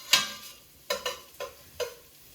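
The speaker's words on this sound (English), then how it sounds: "And so I'm going to put in my garlic now. And I'm going to saute that again" Garlic sautéing in a soup pot, heard as a sharp initial clatter followed by several light, evenly spaced stirring taps against the pot over faint sizzling, close and quiet.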